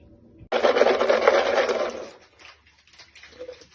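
Gold paydirt is worked in a pan, a close, loud gritty scraping and rasping of gravel that stops abruptly after about a second and a half, followed by faint, sparse rustles.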